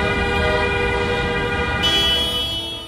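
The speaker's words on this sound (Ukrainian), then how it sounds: "Криворізькі водії гучно сигналізували про свою позицію проти законопроєкту." Drivers in a motorcade protest in Kryvyi Rih, Ukraine, lean on their car horns together, a loud, sustained chorus of overlapping honks with engine rumble beneath.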